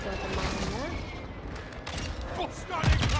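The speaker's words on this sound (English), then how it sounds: "Precision airstrike available. Requesting close air, target throwing stamp grenade. Longbow 3-1 on approach, strike inbound" Precision airstrike in Modern Warfare II multiplayer, a dense rolling barrage of booms and gunfire-like blasts that swells toward the end, with game voices speaking over it.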